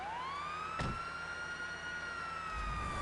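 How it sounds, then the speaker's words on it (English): A police car siren wails from a vehicle in the GTA video game, a steady, sustained tone that holds alone for about three seconds, with a brief thump partway through. "put my sirens on"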